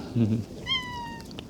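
A cat gives a single clear meow outdoors in Naksan Park in Seongbuk-gu, Seoul, following a person's low voice, with faint ambient noise behind it.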